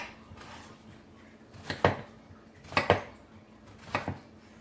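A knife chops eggplant into small chunks on a cutting board, with three pairs of quick, clear knocks spaced about a second apart over quiet room tone.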